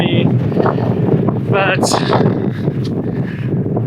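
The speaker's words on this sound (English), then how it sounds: "Oh, it's so windy. You probably can't even hear me." Strong desert wind buffeting the microphone in a loud, continuous roar that swamps the recording, with a hiker's voice speaking faintly beneath the gusts.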